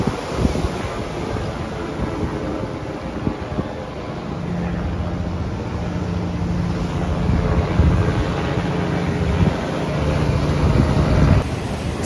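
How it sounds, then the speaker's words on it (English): Wild ocean waves surging at Clovelly in Sydney after stormy weather, a steady broad roar of surf mixed with heavy wind buffeting the microphone, continuous and fairly loud with no talk. "The waves are a little wild because of the crazy weather that we had in Sydney a few days ago."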